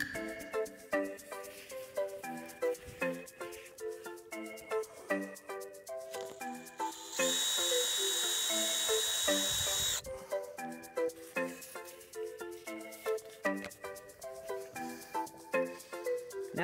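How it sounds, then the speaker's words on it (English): A drill with a 1/16-inch bit bores through an outer 1-inch well pipe into a half-inch inner pipe. A steady whining buzz lasts about three seconds partway through, over continuous background music. "we're going to go ahead and drill our 1/16th freeze hole 5 to 10 feet below ground level"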